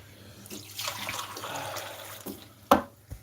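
Water from a tap runs into a glass, a moderate splashing flow that swells and then eases off, ending with a couple of sharp clinks.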